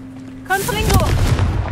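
A Confringo fire spell blasts off in Hogwarts Legacy, a sudden booming burst that rolls into a loud, crackling roar and keeps rumbling to the end, with a voice speaking over it.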